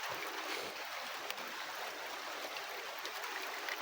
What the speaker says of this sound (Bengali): প্রচন্ড পরিমাণে বৃষ্টি পড়তেছে